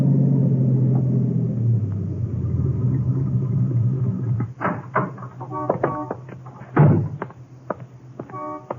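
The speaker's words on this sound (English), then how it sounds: "I drove there early the next morning." A car in a 1950s radio detective drama drives off on a morning trip: a steady low engine rumble fills the first few seconds, then gives way to a door slam and sharp thunks and clatter.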